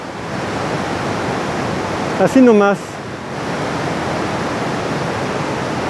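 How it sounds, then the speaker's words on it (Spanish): Small waterfall and rapids in a park behind a house in Nanaimo, a steady broadband rush of falling water filling the whole clip, with a brief spoken remark near the middle. "Esta es la pequeña cascada, la caída de agua, la catarata, el rápido que les había mencionado."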